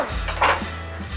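Dishes and cutlery clinking during dishwashing at a home kitchen sink: a short, close burst of ceramic and metal clatter over running water, with no voices.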